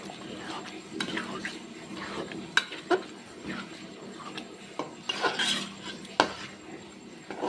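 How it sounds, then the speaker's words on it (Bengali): Meat stirred and fried with spices in a pan: intermittent metallic scrapes and clinks of a spoon against the pan over soft frying, close, with occasional light speech. "এখন আমি মাংসটা দিয়ে একটু ভালো করে কষিয়ে নেব"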